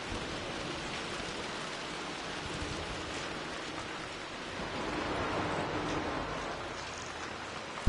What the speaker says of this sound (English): It sure is rainy in here.